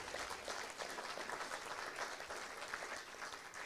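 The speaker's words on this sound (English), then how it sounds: "Let's give them a big round of applause tonight" An audience at a provincial candidates' forum applauds steadily throughout, a dense, even wash of clapping from many hands at moderate distance.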